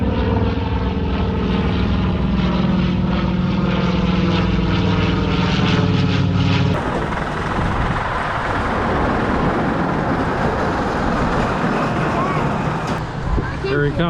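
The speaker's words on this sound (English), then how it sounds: "The planes seem to be coming more over the pier, so it should be a better view." Propeller airplanes fly over a pier at the Ocean City, Maryland air show, giving a loud, sustained droning engine tone that swells and then gives way to broader rushing noise as they pass close overhead.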